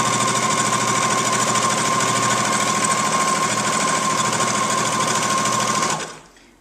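A sewing machine runs a straight stitch down the edge of a party napkin, giving a steady, loud, rapid mechanical chatter for about six seconds before it slows and stops.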